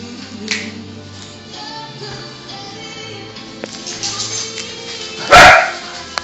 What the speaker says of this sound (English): don't worry about the dogs